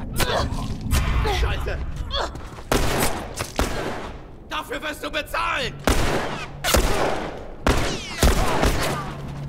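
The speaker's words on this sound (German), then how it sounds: "wo kam der Schuss her?" Repeated loud gunfire bursts in the video game The Last of Us, with sharp cracks and booming reports, coming in irregular clusters over the whole stretch, close and punchy, with game-like processing.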